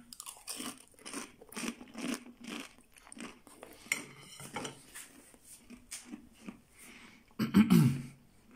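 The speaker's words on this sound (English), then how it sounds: "Listen to the crunch now." Crisp air-fried food crunches loudly with each bite, a steady run of crackling chews ending in a louder, heavier crunch close by.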